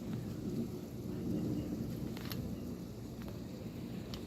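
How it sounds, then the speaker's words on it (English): Heavy rain pours during a thunderstorm, a dense steady hiss and patter with low rumbling underneath and occasional sharp drips, with no talk. "It's raining faster."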